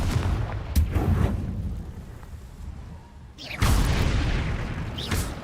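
The Confringo explosive spell in Hogwarts Legacy, heavy booming blasts: a burst of impacts early on, a rumbling lull, then a second loud blast near the end, close and forceful.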